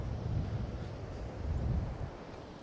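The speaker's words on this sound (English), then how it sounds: "It's quite windy as well." Gusty coastal wind buffets the microphone at the edge of England, a low rumbling roar that swells and eases over a few seconds with no voices.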